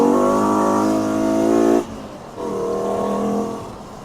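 A 5-cylinder swapped Mk2 VW Golf with an 07K engine pulls hard, its loud harmonic engine note climbing for nearly two seconds, dropping off, then rising again as the car accelerates once more.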